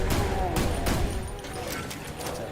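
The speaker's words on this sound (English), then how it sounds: "That's a big ass explosion." A big explosion in a video game, a dense roaring blast with crackling bursts that carries on steadily for a couple of seconds, loud and close, with a voice faintly under it.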